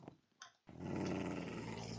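Tamed wolves growl in Minecraft, a brief yip and a short blip followed by a sustained low rumbling growl that swells near the end, fairly loud and without speech.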